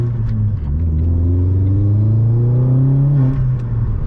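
Remapped Vauxhall Astra VXR engine idling then revving, a loud, close, deep rumble that rises in pitch and settles, with faint crackles near the end; no talking.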